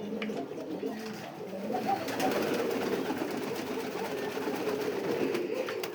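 Pigeons at a pigeon farm cooing steadily in low, rolling calls that overlap through the whole stretch, with faint background voices.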